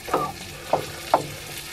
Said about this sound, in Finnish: Nyt nää paistetaan.